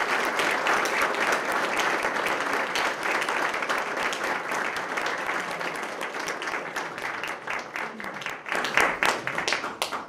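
Sustained applause from an audience at a police department promotional ceremony as a new badge is pinned on, dense and steady clapping for the whole stretch and swelling slightly near the end.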